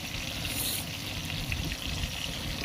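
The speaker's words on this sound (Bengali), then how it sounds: "এই চিংড়িগুলো ওই একইভাবে ভেজে নিচ্ছি" Prawns frying in oil in a pan, a dense, even sizzle and crackle held close and steady for the whole stretch, with no voices.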